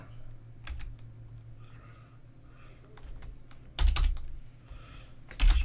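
Computer keyboard typing during a software login attempt, coming as a few scattered clicks and short bursts of keystrokes close to the mic over a low steady hum, with two sharper thumps near the end.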